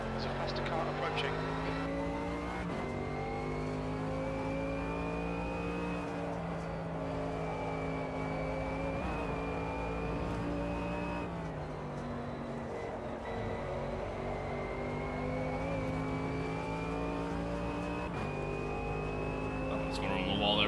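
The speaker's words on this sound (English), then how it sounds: "Okay, David, there's a faster car approaching." A race car engine in Automobilista 2 at Watkins Glen, droning steadily near and loud with rising and falling revs as a faster car approaches, while someone talks over it.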